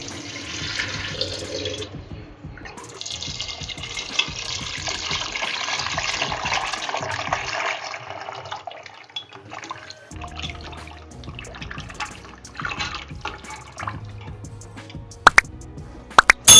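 Mutton paya pieces are rinsed under a running kitchen tap, with water splashing and plopping into a bowl in uneven bursts, a pause partway through, and a few sharp clatters near the end.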